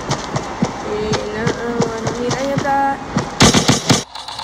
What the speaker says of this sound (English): I need to shoot the last 6 bullets